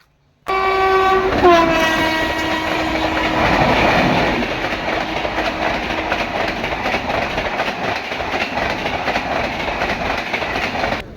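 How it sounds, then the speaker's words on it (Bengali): A train on the Burdwan chord line at Dankuni station: a loud horn blast at the start, then the steady rumble and clatter of rolling carriages close by, with no talking. "আর এখন এখানে ট্রেন আমরা ধরবো মানে এই রয়েছে বর্ধমান কডের লাইন"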